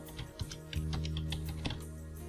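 Keys on a computer keyboard are tapped in a quick, irregular series of clicks, close and fairly quiet, over a faint low hum with no talking.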